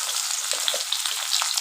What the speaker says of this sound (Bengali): ঢ্যাঁড়সটা শ্যালো ফ্রাই করে দেবো